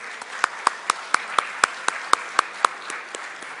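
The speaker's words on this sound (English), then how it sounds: "Let's give her a big round of applause" Audience clapping at an evening youth conclave session in Pune as a speaker is welcomed, heard as a sequence of sharp, evenly spaced claps over a soft background.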